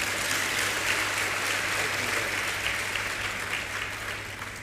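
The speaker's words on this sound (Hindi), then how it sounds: "एक बार अपने लिए ताली बजा लीजिए" An audience at a Jain monk's spiritual discourse claps for itself in dense, continuous applause, a broad even wash that holds steady and tapers slightly toward the end.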